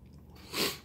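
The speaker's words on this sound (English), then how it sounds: "sorry, I'm still chewing. This is so good." Close, brief crunchy chewing of breakfast food from a German military EPA ration, one short burst of mouth noise with no talking.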